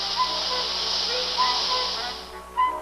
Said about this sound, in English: To give the sinking PT boat realism, special effects man Wally Wilger creates a little magic with live steam.